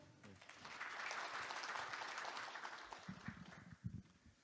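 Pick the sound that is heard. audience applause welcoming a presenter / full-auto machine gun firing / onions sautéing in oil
audience applause welcoming a presenter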